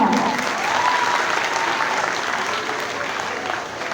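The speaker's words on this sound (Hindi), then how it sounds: "एक बार फिर डायरेक्टर सिंह अब्दुल हफीज़ मेसर साहब के लिए दिल से ज़ोरदार तालियाँ।" Enthusiastic crowd applause for a director at an Independence Day celebration in Karachi, loud and sustained clapping from many hands that tapers slightly toward the end.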